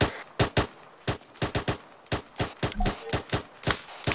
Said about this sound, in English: Someone is firing at us close?